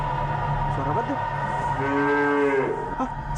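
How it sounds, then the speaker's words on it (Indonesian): A cow moos once, drawn out and fairly close, rising above steady background ambience in a dramatic series scene. "Hah, sapi?"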